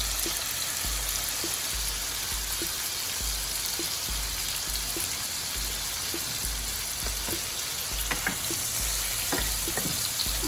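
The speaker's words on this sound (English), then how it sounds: "My water is starting to boil" Steady bubbling and hissing of water heating in a pot, with scattered small pops and crackles over a constant broadband wash.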